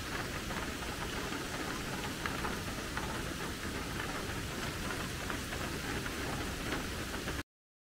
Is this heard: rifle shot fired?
no